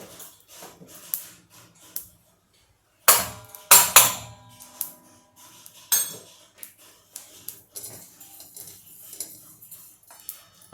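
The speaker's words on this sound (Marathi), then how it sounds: "ही आपली छानपैकी शोप आता मस्त भाजून घेते." Fennel seeds are dry-roasted in a pan while jackfruit pickle is being made, producing scattered metallic clinks and scraping taps. The sounds come in short irregular bursts, close and fairly crisp, with a brief louder cluster partway through and no talk.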